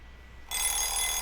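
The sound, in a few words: alarm clock ringing in the video game Nameless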